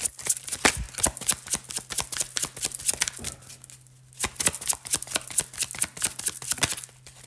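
Tarot or oracle cards are shuffled by hand in quick, close, crisp riffling bursts with a brief pause midway, then the shuffling resumes, all under a low steady hum and without talk.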